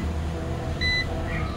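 A hybrid inverter (Revo Series 5.5 kVA) being serviced gives a short electronic buzzer beep as it switches over to grid power, a brief high tone over steady low electrical hum.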